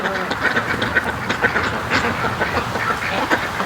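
A pet breeding duck with a badly scarred neck quacks repeatedly in an irregular series of nasal calls, close and fairly loud, with no talk over it.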